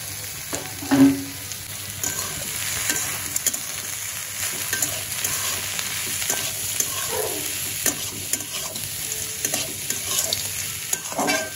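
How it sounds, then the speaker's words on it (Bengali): Bitter gourd (karela bhaji) frying in a pan while being stirred, with a continuous soft sizzle and intermittent scraping and stirring noises throughout. "এখানে রান্না করতেছি করলা ভাজি"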